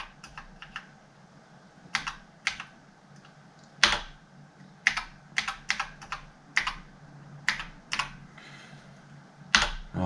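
Keys on a BBC Master 8-bit micro's keyboard pressed one at a time, some keys sticking or sitting high, giving sharp, irregular clicks and clacks spaced across the clip with quiet gaps between them.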